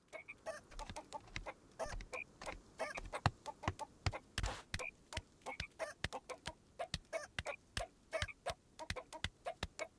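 Rapid, steady chicken clucking plays throughout a scene in the Baby Steps video game, dense rhythmic bursts at moderate volume with no voices.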